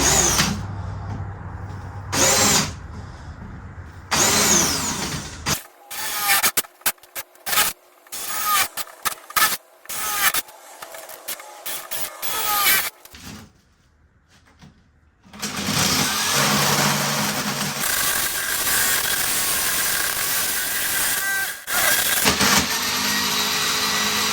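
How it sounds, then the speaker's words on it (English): A jigsaw drilling holes runs in repeated loud bursts, stopping and starting with short gaps, then settles into a long sustained grinding run near the microphone. "We're going to drill some holes with this jigsaw."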